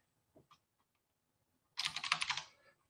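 Fast typing on a computer keyboard while working on SAP development: a dense burst of key clicks lasting about a second, close and fairly quiet, after a couple of faint earlier taps.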